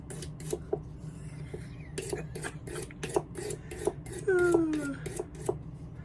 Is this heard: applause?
no